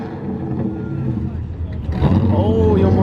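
A Corvette C5 with a choppy, lumpy idle stumbles and nearly stalls before catching and revving up louder, with people talking nearby at a car meet.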